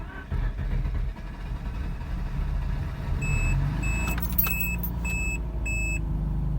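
A 2005 Mazda RX8 with a stalling problem, suspected in the fuel pump or injectors, is started and settles into a steady low engine rumble, with a string of repeating electronic beeps sounding partway through.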